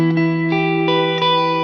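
Electric guitar chords through a reverb pedal set to true bypass, a few strummed hits ringing with bright sustained tones and a shimmering reverb wash.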